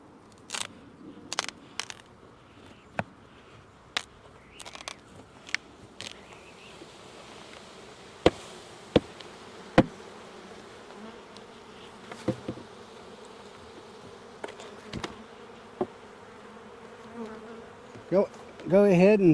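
Honey bees swarm around opened hives during a varroa treatment check on a single brood chamber colony, giving a steady, dense buzzing throughout, punctuated by sharp clicks and brief handling knocks.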